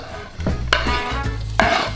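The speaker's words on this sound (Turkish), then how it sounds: "şu yemek yapımındaki en güzel şey şu soğanın kavruluşu" Chopped onions frying in hot oil in a home kitchen pan, a steady loud sizzle broken by a few sharp scraping clatters as a utensil stirs them.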